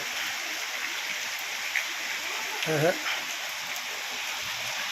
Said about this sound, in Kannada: ನೋಡಿ ಫ್ರೆಂಡ್ಸ್ ಹೆಂಗೈತಿ ಊರ ಮಳೆ